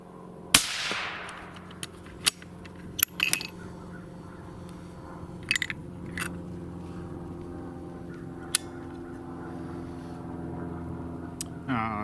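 A single sharp rifle gunshot cracks out early, then a few fainter clicks and bangs follow over a steady low hum from a range, heard close with no talk.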